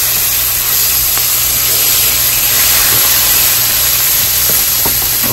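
Italian sausage cooks in a pan with a loud, constant sizzling hiss close up, broken by a few soft pops and crackles.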